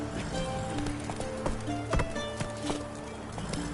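Geralt's horse Roach trots in The Witcher 3: Wild Hunt, an even clip-clop of hooves close by, set against faint game ambience and a low hum, with no voices.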